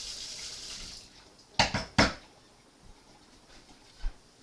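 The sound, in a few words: washing wooden spatula under running tap water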